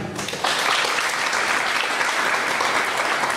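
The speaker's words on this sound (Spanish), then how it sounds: "para quien pido un fuerte aplauso" Loud, sustained audience applause fills a conference hall for a labor-law lecture event, starting abruptly and continuing steadily without a break.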